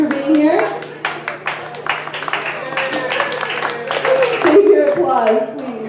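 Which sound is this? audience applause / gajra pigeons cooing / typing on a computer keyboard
audience applause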